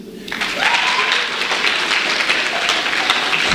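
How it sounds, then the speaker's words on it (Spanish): Loud applause from a group, steady clapping that starts suddenly and continues throughout. "un aplauso para Jesús."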